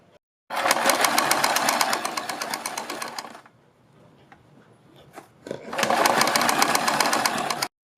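A sewing machine stitches along the folded edge of cloth for a neck design, running in two loud, steady bursts of rapid whirring separated by a short quiet pause with faint handling noise.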